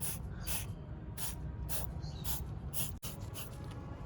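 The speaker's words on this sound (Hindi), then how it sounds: "ऐसे अच्छे से स्प्रे कर देना है" Meguiar's wheel cleaner is sprayed onto an alloy wheel in a rapid series of short, hissing trigger bursts, close to the listener and fairly quiet, with no talking.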